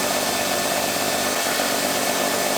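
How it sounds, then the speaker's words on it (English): A paddle mixer stirs epoxy in a cup with a steady, continuous scraping and whirring hiss, held close and loud with no pauses. "I'm trying to make sure I get the mixing paddle against the side."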